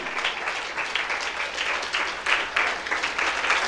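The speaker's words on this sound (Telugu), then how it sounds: "clap clap clap clap clap" A church congregation applauds during a sermon, with dense, moderately loud clapping in uneven surges and no voices over it.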